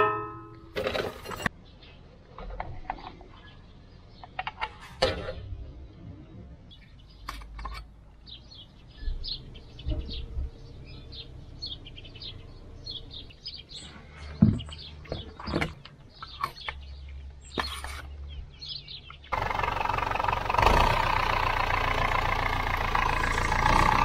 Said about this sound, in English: That injector pump seems to be making quite a bit of noise, like a ticking noise